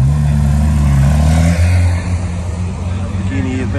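Porsche GT3 RS supercar accelerating past at a Goodwood supercar gathering, a loud engine drone that swells then fades as it passes, with people talking over it.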